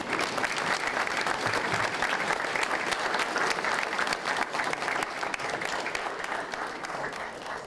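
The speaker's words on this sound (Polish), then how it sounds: "żebyśmy oklaskami powitali tych wszystkich nauczycieli i dyrektorów" An audience at a school youth sports games ceremony applauds to welcome teachers and school directors, a dense, steady clapping that holds for several seconds and fades slightly at the end.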